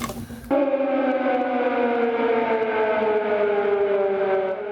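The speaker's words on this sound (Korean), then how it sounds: "독립기념일 아침은 공습경보 사이렌으로 시작됐습니다" A loud air raid siren wails steadily over Kyiv, Ukraine, on Independence Day morning after a brief noisy start, its tone sliding slowly downward and holding for several seconds.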